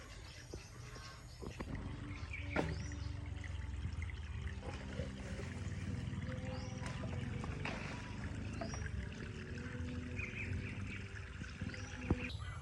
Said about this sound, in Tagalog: Tapos lalagyan na natin ng tubig, then manure, tapos ilalagyan natin yung Azolla.